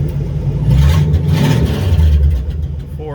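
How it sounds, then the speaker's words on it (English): A Ford 302 V8 powering a narrow gauge rail cart runs steadily nearby, a loud low rumble with a slight rise and fall in revs, no voices. "Ford 302 engine running pretty good today."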